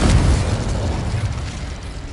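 The Confringo fire spell explodes in Hogwarts Legacy, a dense rumbling blast with a heavy low boom that sustains loudly across the whole short moment, with no voices over it.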